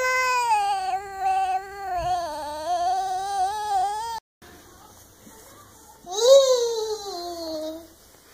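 A voice imitates a cat with a long, drawn-out sung meow, followed after a brief pause by a second rising and falling meow.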